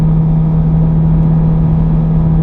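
A supercar engine holds a steady, loud drone under partial throttle as the car is driven on the Silverstone circuit, with a constant low hum and no clear revving peaks.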